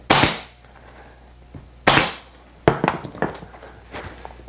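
A staple gun drives 1/4 inch staples into weight bench upholstery, with a few sharp, loud snapping shots spaced about a second apart, followed by softer knocks.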